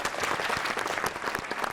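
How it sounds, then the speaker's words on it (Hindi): An audience at a Patanjali Ayurveda college scripture recitation competition in Haridwar breaks into brief, dense clapping, many hands at once close by, steady for under two seconds. "ताली बजा दो।"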